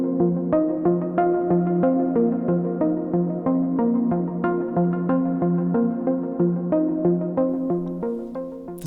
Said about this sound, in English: The next sequence is from the Moog Matriarch and sounds like this.